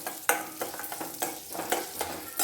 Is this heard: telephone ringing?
no